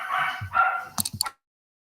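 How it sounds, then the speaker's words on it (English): Dogs bark in a quick run of loud, close woofs and yips, then fall silent. "my dogs are obnoxious"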